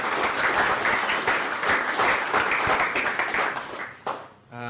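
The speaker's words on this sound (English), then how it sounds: "So big round of applause for those guys." An audience at the New Zealand Young Piper of the Year 2024 light music event applauds in a sustained, fairly loud burst that fades near the end.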